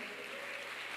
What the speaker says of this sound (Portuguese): Quantos podem aplaudir Jesus nessa tarde?